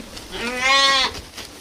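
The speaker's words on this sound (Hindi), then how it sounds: "कालू कसाई उन भेड़ों को लेकर मोहन के घर जाता है" A sheep bleats once in an animated Hindi story, a single drawn-out nasal bleat rising in the middle of the moment, with faint background noise around it.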